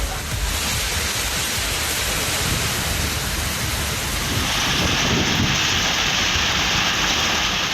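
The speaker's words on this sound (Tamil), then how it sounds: "சூறைக்காற்றுடன் கனமழை வெளுத்து வாங்கியது" Heavy rain pours with gusty wind in Tamil Nadu, a dense, steady roar of broadband hiss that swells a little louder partway through, with no voices.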